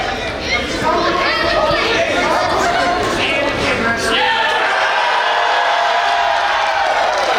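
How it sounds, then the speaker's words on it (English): A wrestling crowd at the Kansas City, Kansas National Guard Armory chatters and cheers in a steady loud roar with scattered whoops, thinning toward a lighter murmur, while a commentator talks over it. "Crowd here at the Kansas City, Kansas National Guard Armory behind the hometown boy, Scott Tyler"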